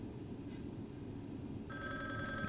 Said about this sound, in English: Is the phone ringing?